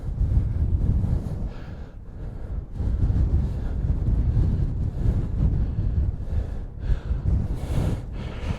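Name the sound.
wind blowing on a hilltop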